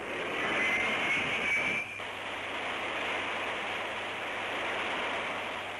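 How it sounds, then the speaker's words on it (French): A loud rushing roar of high-pressure steam from an aircraft carrier catapult and jet engine surges as a jet is launched from the carrier Clemenceau, then drops abruptly to a steady, lower engine roar. "la vapeur sous haute pression de la machinerie des catapultes se détend brutalement."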